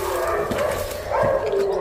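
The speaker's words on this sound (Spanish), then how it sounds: "Hay perros aquí metidos." Dogs in an abandoned Barcelona neighbourhood bark and howl in a continuous, overlapping chorus, fairly loud and sustained with a couple of stronger swells.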